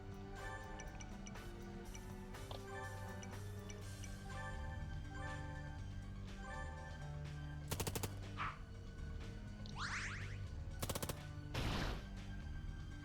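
Gunfire in the video game Long Gone Days, a couple of sharp shot bursts over a steady game music bed, with sweeping effect sounds trailing after.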